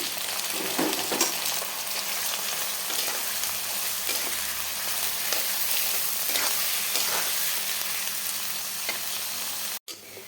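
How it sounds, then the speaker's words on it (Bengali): Onions frying in hot oil for a green chilli mash, a steady close sizzle with occasional stirring scrapes throughout, then a brief cutoff near the end. "তেলটা গরম হয়ে গিয়েছে, এখন পেঁয়াজ দিয়ে দিচ্ছি।"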